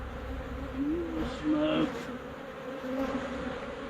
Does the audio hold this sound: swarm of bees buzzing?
yes